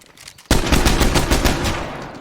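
A rare gun with a red Talon paint job fires in State of Decay 2, bursting into loud, rapid automatic fire that runs continuously after a quiet start.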